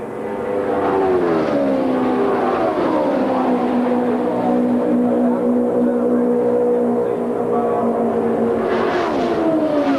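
Indy race cars at the 1978 USAC Texas Grand Prix come out of turn four with loud, continuous engine roar, pitch sliding down and then holding steady as the cars pass, strong throughout with no voices.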